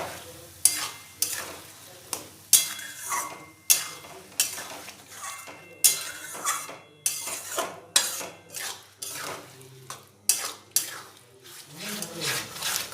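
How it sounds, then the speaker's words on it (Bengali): Grated onion, ginger and garlic frying in a pan for mutton kosha with potatoes, stirred with a utensil that scrapes and knocks steadily against the pan, close, with a soft sizzle between strokes. "পেঁয়াজ আদা রসুন খুব ভালো করে ভাজা হয়ে গেছে"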